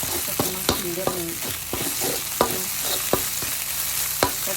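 Blended shallots, fingerroot and garlic are stir-fried in a pan under a constant loud sizzle. Sharp scraping and clacking strokes of the spatula recur irregularly, close by, with no speech.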